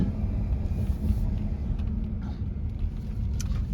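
A 2011 Audi S6 with its 5.2-litre V10 idling, a steady deep rumble close by with no other sounds over it.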